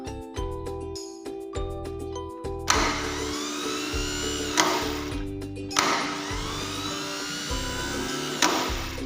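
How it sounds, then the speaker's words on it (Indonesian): A car starter motor is tested on its own, giving repeated whirring spin-ups with a rising mechanical whine. The short runs are separated by brief gaps and sharp clicks, close and steady, with no talking. "Starter bekerja dengan baik."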